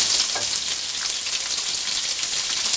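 Onion and ginger sauté in hot oil in a pan for chilli paneer, a steady close, hissing sizzle with faint crackles and no voices.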